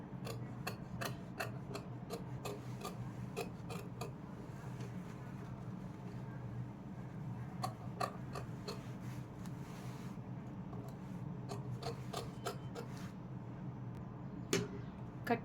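Scissors snip through stitched fabric while a neckline is cut to shape, giving a run of faint, sharp, close clicks in uneven bursts under quiet talk.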